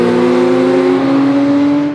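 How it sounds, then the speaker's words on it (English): Porsche sports cars from a club run rev loudly and drive past nearby, a steady high engine drone with strong harmonics holding for two seconds, no talk over it. "As the Porsche Club comes through."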